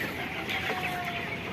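Broiler chickens, twenty-one days old, cluck softly on a farm: a brief murmur of low clucks over a steady background hum.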